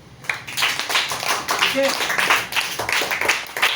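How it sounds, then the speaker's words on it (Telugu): An audience at a food, nutrition and dietetics interns session claps in a steady burst of quick, moderately loud hand claps, with a voice briefly speaking over it. "Super, claps."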